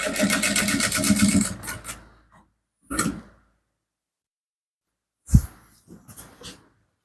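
A sewing machine stitches along a facing line on a garment, whirring steadily for about two seconds, then running in short separate bursts with pauses of silence between them.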